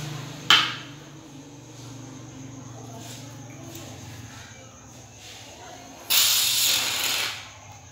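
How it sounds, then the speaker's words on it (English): A can of shaving cream hisses out a spray for homemade slime. One short pop comes near the start, then a loud, steady spray lasts about a second and a half before it tapers off. "Next, we're gonna put the shaving cream."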